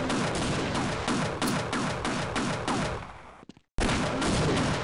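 Sustained automatic gunfire in the 1998 video game Half-Life, a steady rapid stream of loud shots that briefly cuts out to near silence before the firing resumes just as fast.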